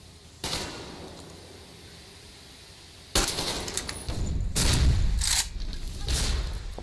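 Enemy gunfire in the Metro Exodus video game rings out in loud bursts of shots, a fusillade of close cracks and booms with short pauses between volleys.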